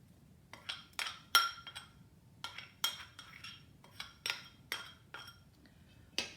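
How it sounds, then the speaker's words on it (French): A metal spoon stirs brioche dough in a bowl, giving a dozen or so sharp clinks against the bowl's side in an uneven rhythm, close and fairly quiet with no talk. "j'utilise une cuillère pour mélanger"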